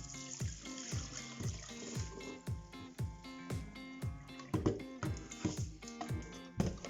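Rice being rinsed under running water, soft close trickling and swishing with a rhythmic, repeated stirring or squishing motion, fairly quiet and without talk.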